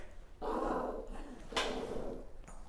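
Dogs make short whimpering, yelping sounds, fairly faint and a little distant, in two bursts over a quiet background.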